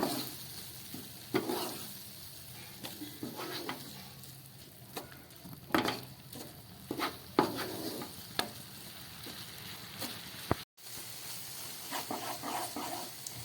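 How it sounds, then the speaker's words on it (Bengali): Thickened milk filling for patishapta sweets is stirred continuously in a pan, soft scraping strokes and a low sizzle at moderate volume, with a brief cut near the end and no talking. "এবারও এটাকে অনবরত নাড়তে হবে"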